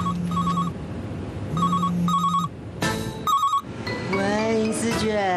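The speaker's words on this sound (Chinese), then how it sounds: "谁电话？" A mobile phone ringtone sounds in a television finance-program studio, repeating electronic tones in short bursts that give way to a melodic passage, with background chatter underneath.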